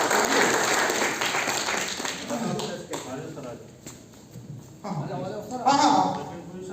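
Applause for prize winners at a school ceremony: a dense burst of clapping that fades after a couple of seconds, followed by people talking over lighter scattered claps.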